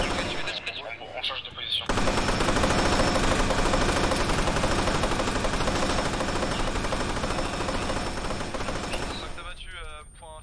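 Sustained automatic gunfire in Arma's Altis Life mode, a dense loud barrage of rapid shots lasting several seconds, with players talking in French before and after.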